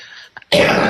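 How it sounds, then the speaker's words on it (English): A man clears his throat and gives a short cough, close and loud, in a burst under a second long with no words. "excuse the coughing, I've been ill"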